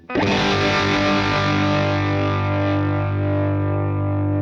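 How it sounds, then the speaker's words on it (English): UAFX Ruby pedal on its top boost AC30 channel with the gain turned up: a single loud, heavily distorted guitar chord rings out thick and sustained, slowly fading with a wavering, chaotic edge. "Turn up the gain, it sounds almost like the amp's dying"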